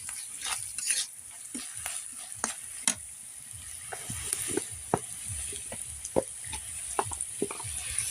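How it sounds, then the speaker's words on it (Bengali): Turmeric and spice powder fry in a pan for a potato and eggplant dish, with a faint, soft sizzle under frequent scraping and tapping strokes of a stirring spoon. "আর একটু ভালো করে ভেজে নেব।"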